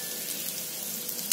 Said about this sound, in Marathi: चांगली तळल्या गेली, मस्त छान खरपूस तळल्या गेली एकदम